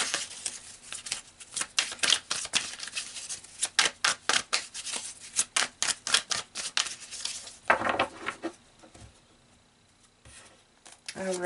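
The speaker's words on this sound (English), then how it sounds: "So let's pull some more cards" Tarot cards being pulled and shuffled make rapid, crisp riffling and slapping bursts in quick rhythmic runs, up close, followed by softer shuffles and a pause.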